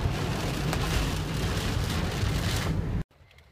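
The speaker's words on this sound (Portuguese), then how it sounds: "Tá chovendo granizo, gente." Dense, steady hail drums hard on a car during a storm near São Paulo, a loud even clatter that cuts off abruptly near the end, leaving quiet.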